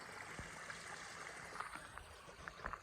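Hillside streams run down from the slopes in a steady, fairly faint wash of flowing water, with a few soft splashy ticks over the rush.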